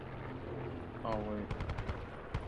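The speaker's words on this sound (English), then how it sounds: "gunfire to the left" Gunfire in Call of Duty: Black Ops 4 Blackout, a battle royale match: a quick burst of several sharp shots after a short tonal game sound, moderately loud amid game ambience.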